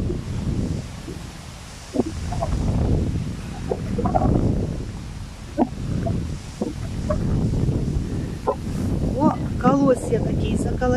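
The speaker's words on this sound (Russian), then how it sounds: "Видите, какой ветер?" Strong wind gusts rush against the microphone in uneven surges while people talk, and a few birdlike calls break through near the end.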